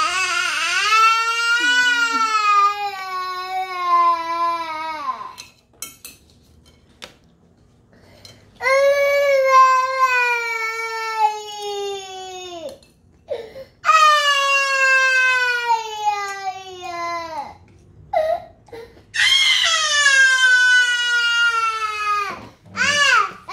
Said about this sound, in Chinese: 不哭了，不哭